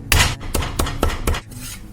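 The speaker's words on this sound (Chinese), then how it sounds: "把姜切成大块，然后拍破" Five sharp, heavy thwacks land in quick irregular succession, like a knife blade smashing ginger against a chopping board, loud and close with no talking.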